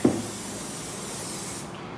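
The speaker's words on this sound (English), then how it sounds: "And when you're spraying, you wanna make sure that you have a nice, pretty thick coat, thicker than you'd think" Contact cement is sprayed onto a timing cover gasket on a Chevrolet 454 big block engine, giving a steady close aerosol hiss that lasts about two seconds and then tapers off.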